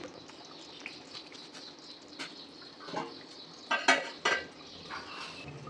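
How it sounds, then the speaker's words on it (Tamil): A spoon stirs dried fish curry in a clay pot, then a lid goes on, with a few soft clinks and scrapes over a quiet room, loudest near the end. "கருவாடு போட்டு லைட்டாக ஒரு கலர் கலக்கி விட்டுட்டு ஒரு அஞ்சு நிமிஷம் மூடி வச்சிடலாம்"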